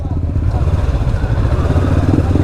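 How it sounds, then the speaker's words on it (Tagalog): Motorcycles roll in past the Coast Guard post on Polillo Island over wet cement, a close, chugging mid-range engine drone with a pulsing rhythm and steady low rumble. "Pasok na daw ang mga motor."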